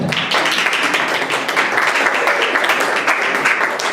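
Panel audience at a women-building-peace conference bursts into dense, loud applause, many hands clapping continuously and evenly throughout without any talking.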